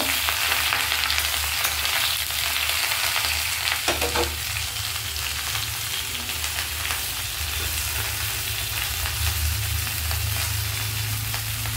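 Water lily stems (shapla) frying in a pan with salt added, giving a steady, loud, close sizzle with light stirring scrapes throughout.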